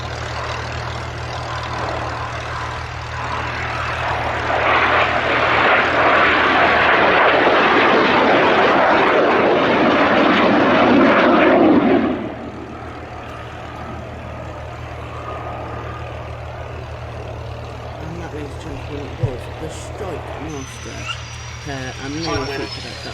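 A pair of BAC Strike Master jet aircraft make their final break at an air display, a loud broad roar swelling and holding for several seconds before cutting away to a quieter background hum, with a commentator talking.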